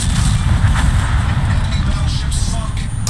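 Artillery fire in a naval video game destroys a ship, a dense continuous low rumble of booming blasts under a steady roar, loud and sustained throughout.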